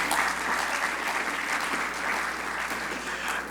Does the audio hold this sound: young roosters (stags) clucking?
no